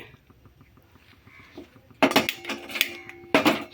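A metal pot clanks down onto a stovetop, a few sharp ringing knocks and scrapes following a quiet stretch.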